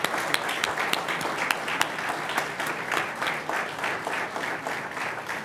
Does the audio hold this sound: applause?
yes